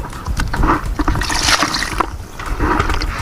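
Cold water being stirred by hand into thick brown ground shea nut paste, a steady wet churning and sloshing that carries on throughout, close and fairly loud.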